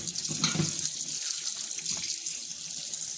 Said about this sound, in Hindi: धोने जा रही है, देखिए कम से कम 2 या 3 पानी इसको धो लेना है।